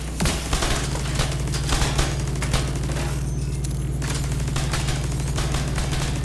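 A turret in the shooter game The Division 2 fires a dense, continuous burst of rapid gunfire, loud and unbroken for several seconds with a low rumble underneath and no talking.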